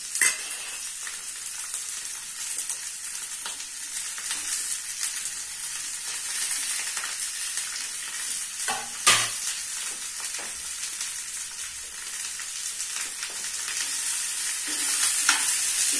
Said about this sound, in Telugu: కానీ చిట్చిట్లాడతాయి కదా, అందుకని మనం ఇది వేసుకున్న తర్వాత కరివేపాకు వేసుకున్నాం.